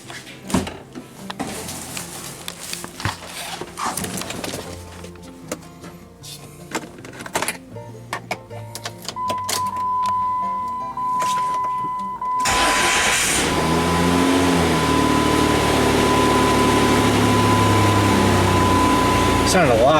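Engine of a 1999–2004 Jeep Grand Cherokee cranking on a newly replaced starter, catching quickly and settling into a steady idle with a whine, preceded by clunks and rustling.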